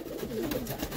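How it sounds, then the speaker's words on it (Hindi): Spotted Lakha pigeons, called Phulsare Lakha, coo softly in a loft, a faint, brief throaty coo with no talk over it. "ये लाखे कबूतर हैं, ठीक है, और छीटदार हैं, जिन्हें फुलसरे लाखे बोलते हैं"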